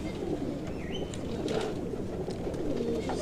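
Pigeons in a breeder's loft give soft, low cooing over a steady background hum, with a few faint chirps overlapping.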